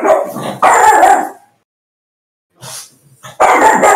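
A dog barks at someone coming through the door, a few loud, close barks in two bursts separated by a quiet gap.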